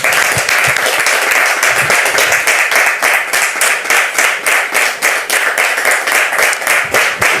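A church audience claps loudly and steadily, a dense rhythmic wash of hands at close range that holds for the full length without talk.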